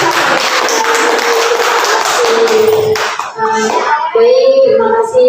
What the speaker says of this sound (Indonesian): Untuk acara hari ini kita tepuk tangan dulu ya, karena kita semua sudah baik